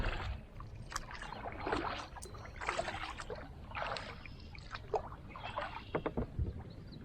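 A kayak paddled solo against a strong current on the Wapsipinicon River, with close, uneven water splashes and paddle strokes over soft flowing water. The sound is fairly quiet and there is no talking.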